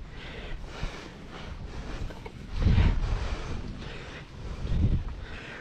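Wind buffets a microphone on a fishing boat, a low rumbling roar with two stronger gusts swelling and fading, close and moderately loud with no talk.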